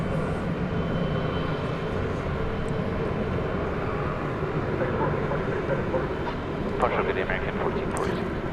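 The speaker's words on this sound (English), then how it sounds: "that was the plane that was going to Los Angeles" An airliner departing DFW Airport at night, bound for Los Angeles, gives a steady, broad engine roar that holds for the whole stretch at a distance, with no clear rise or fall.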